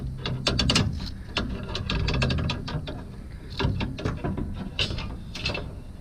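Metal pry bar working a rear shock absorber loose from its upper mount on a 4th-gen Camaro during a Koni STR.T and lowering spring install, giving a run of close, sharp clicks and metallic clanks in uneven bursts with no talking.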